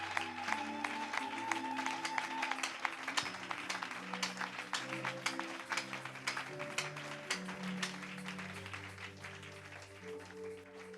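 A church congregation claps in acclamation during an evening service, a brisk, continuous patter of many hands that rises and thins, with musical tones sounding beneath it.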